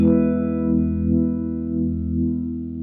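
Cornerstone Aquarium univibe pedal on its slow speed setting, processing a sustained electric guitar chord with a slow throbbing, swirling pulse, steady and loud with no talking.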